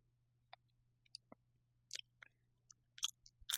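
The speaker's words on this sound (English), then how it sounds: "I probably shouldn't be chewing gum." A person chews gum with sparse, faint, moist clicks and smacks spread unevenly over a few seconds against a steady low hum, with no voices.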